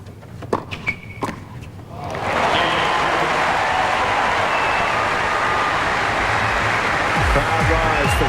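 At a Sydney men's tennis final, a few sharp thuds and taps give way to a swelling, sustained roar of crowd applause for Lleyton Hewitt, broad and loud, filling the stadium.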